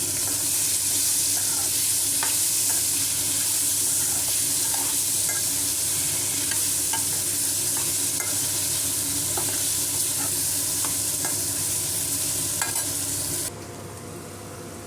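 Chunks of mango are stirred into a sizzling pan of sweet mango chutney, giving a steady close frying hiss with scattered spoon scrapes and clicks throughout, ending slightly quieter.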